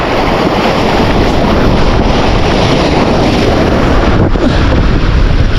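Strong waves at open sea pound a small motorboat, a loud continuous roar of surf and water rushing against the hull mixed with heavy wind buffeting the microphone.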